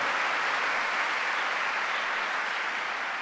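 Sustained applause from a church congregation at a Sunday service, a dense even wash of many hands clapping steadily throughout, no voices on top.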